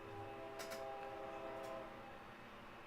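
An eastbound freight train sounding its horn while approaching through a small river town downtown: a sustained multi-tone horn blast from a distance over a steady rumble, fading out after about two seconds.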